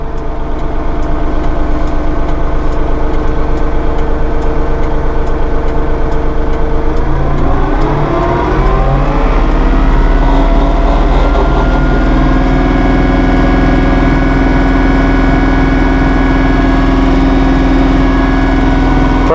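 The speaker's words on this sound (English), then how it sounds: "Pretty quiet tractor," A Massey Ferguson compact tractor engine drones steadily from inside the deluxe cab, loud and low. Its pitch shifts partway through, then it settles into an even hum.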